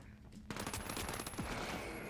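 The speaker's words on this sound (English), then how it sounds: "That gun scared the crap out of me." A loud gun fires a rapid automatic burst in The Finals, the shots starting abruptly and running close and steady for about a second and a half.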